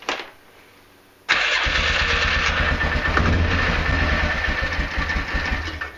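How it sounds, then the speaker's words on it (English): A Can-Am Outlander Max 400 ATV cranks briefly and then catches, its engine roaring into a loud, steady, close idle that carries on to the end. "So now we're gonna start her up."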